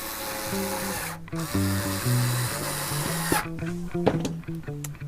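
A power drill with a 3/32 inch bit whirs steadily through the wood of a cigar box guitar in short bursts, drilling pilot holes, its motor pitch stepping up and down between pauses, close and loud.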